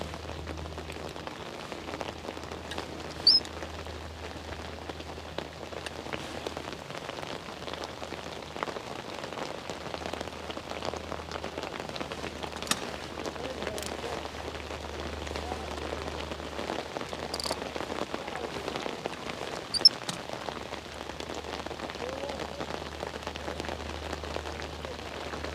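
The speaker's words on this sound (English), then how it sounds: "It looks like the rain is stuck with us for the day now" Heavy rain falling steadily at an outdoor fishing match at Sherwood Forest, Holmedale, a constant close patter on surfaces with occasional louder drops and a low hum beneath, no talk.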